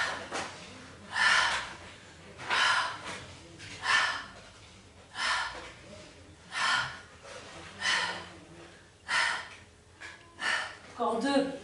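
Deep, rhythmic breathing during a yoga breathing exercise: about ten strong, airy inhales and exhales repeat at a steady pace of roughly one per second, close and loud, with a soft voice guiding underneath.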